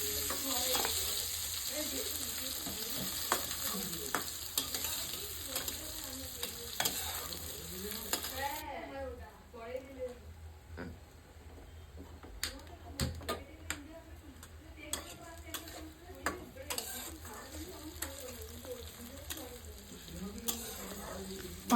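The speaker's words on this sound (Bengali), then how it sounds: "পেঁয়াজটা নেড়ে চেড়ে নিচ্ছি।" Chopped onions with cumin, cinnamon and cardamom sizzle in a pan while a utensil stirs them, a quiet crackling fry under soft scraping and tapping, with intermittent clicks and a low background hum.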